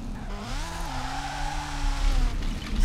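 Lego Ferrari F40 RC car drifting in first gear, a steady whining motor with rising and falling pitch and tire scrub as it slides, close and continuous.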